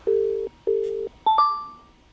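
Telephone dialing tones play while a conference call is being set up: two long steady beeps followed by a couple of shorter, higher tones, clear and alone with no talk.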